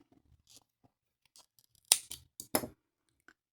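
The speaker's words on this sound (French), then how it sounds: "Une maille en l'air pour sécuriser et je coupe." Scissors snip crochet yarn close up, a couple of crisp metallic cuts with small clicks and handling noises around them in an otherwise quiet room.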